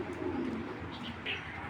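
Racer pigeons coo softly in a short, low murmuring call, close by and alone, with a faint chirp near the end.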